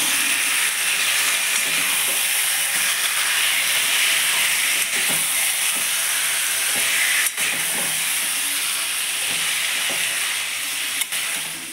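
Marinated mutton goes into a pan of fried onions while cooking mutton kosha and sizzles loudly and steadily close by, with a broad hiss and occasional soft scrapes of stirring.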